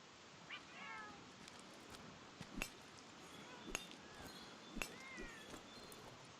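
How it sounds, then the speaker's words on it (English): A cat in the game Monster Hunter World: Iceborne meows a few times amid soft ambient game sound and occasional light clinks, fairly quiet and intermittent. "Seems like there's some cats up here."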